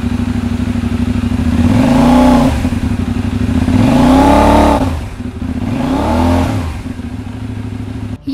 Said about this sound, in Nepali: अब हामी बेनेलीको 752S मोडलको एक्जस्ट साउन्ड सुन्न जाँदैछौँ